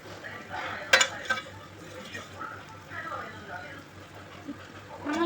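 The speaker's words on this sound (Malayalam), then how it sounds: "ഓക്കെ, ഫ്രൈ ആയിക്കൊണ്ടിരിക്കുകയാണ്." Brinjal slices frying in hot oil in a heated pan, a steady soft sizzle under talk with a couple of sharp utensil clinks and stirring scrapes near the start.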